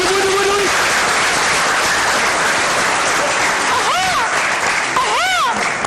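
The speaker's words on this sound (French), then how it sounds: "faites du bruit, on applaudit très fort," A show audience applauds loudly and continuously as a steady wash of clapping, with cheers and whistles rising above it near the end.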